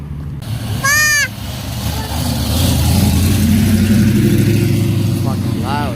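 At a Colorado car meet, a loud car engine rumbles and revs steadily nearby, with bursts of honking and whooping voices over the top.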